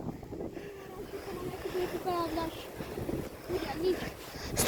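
Wind blows hard past a microphone during a bike ride, a steady low rumbling gust with rising and falling swells, and voices talking faintly underneath.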